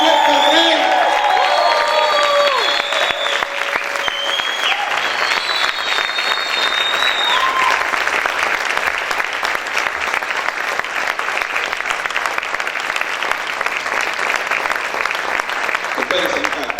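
A church congregation applauds loudly for a long stretch, with dense sustained clapping, whoops and cheering, and some voices shouting over it early on.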